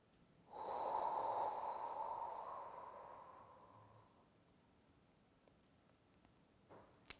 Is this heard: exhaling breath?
yes